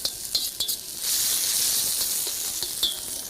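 Red and green chilies sizzling in a hot pan, a steady bright hiss that swells after a few light clinks and stirring knocks, carrying on evenly throughout.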